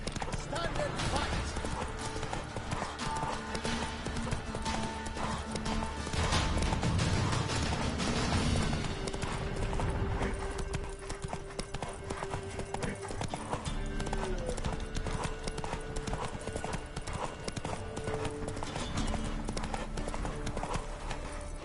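Roach, the horse in The Witcher 3, gallops with a steady rhythmic clip-clop of hooves throughout, mixed with game music and occasional clanking, while a voice speaks briefly over it.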